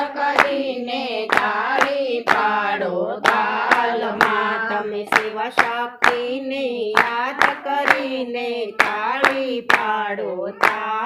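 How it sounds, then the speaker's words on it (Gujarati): Steady rhythmic hand clapping keeps time with a sung Shiva Shakti bhajan, sharp regular claps punctuating the devotional singing throughout. "તમે શિવ શક્તિને યાદ કરીને તાળી પાડો"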